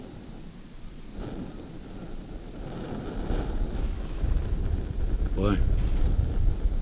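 Wind gusts around a tiny Hamans BRS 3000T ultralight backpacking gas stove outdoors, a rough, rumbling roar that builds louder over several seconds, with someone speaking briefly over it.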